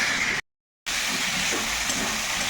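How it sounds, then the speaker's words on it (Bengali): Taro chunks frying with spices in hot oil, a steady close hiss and sizzle that cuts out briefly and then resumes evenly. "কচুটা দিয়ে আবারও এই মশলার সঙ্গে আমি বেশ খানিকক্ষণ ধরে এটাকে একদম কষিয়ে দেবো"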